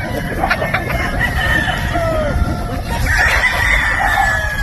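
Gamefowl at a game farm in Batangas, including a Sweater Boston pullet, give a rooster crow and clucking over a steady, busy farmyard background, fairly loud and close.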